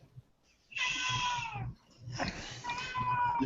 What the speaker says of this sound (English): Your cat is so loud.